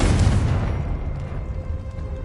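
A Confringo blasting spell bursts in Hogwarts Legacy, a loud low boom at the start that rolls off into a long rumbling tail lasting a couple of seconds.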